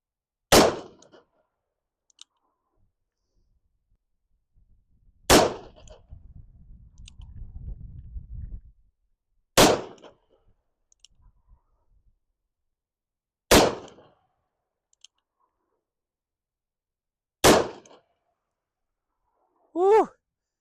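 .44 Magnum Buffalo Bore +P 340-grain rounds are fired at steel knockdown targets outdoors: five loud, sharp shots spaced roughly four seconds apart, each decaying quickly into quiet gaps.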